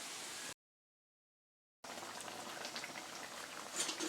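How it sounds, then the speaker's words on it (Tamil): Eggplant tamarind gravy with a pinch of asafoetida simmering in a pot on the stove, a steady close bubbling hiss that stops briefly in silence, then resumes with rising, busier popping toward the end. "ஒரு 10 நிமிஷத்துக்கிட்ட நல்லா கொதிச்சு வந்துருச்சு"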